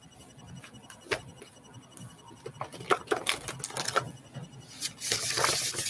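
Tarot cards being shuffled by hand, a run of close, soft riffling taps and flutters that build toward a denser burst at the end.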